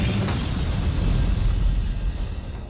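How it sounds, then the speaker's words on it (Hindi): An explosion in a farm field in Amarkot, Punjab, shown in news footage, heard as one loud, sustained, rumbling boom with a dense low roar that fills the whole stretch without pause. "खेत के बीच धमाके के बाद उठता गुबार आतंकियों की साजिश के नाकाम होने का शोर है"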